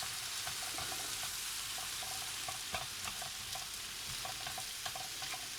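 Leeks frying in a pan while a sauce for roast pork thickens on the stove, a steady close sizzle with light stirring clicks and scrapes running throughout.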